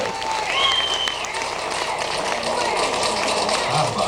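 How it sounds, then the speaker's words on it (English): An audience at a shipboard games event applauds, a sustained, fairly loud burst of many hands clapping, with some voices and a whistle-like tone over it. "let's give them a nice round of applause"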